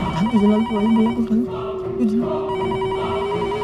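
A phone rings in a sitcom household during heavy rain, playing a sung ringtone jingle with a steady held melody, loud and close, with other voices briefly heard.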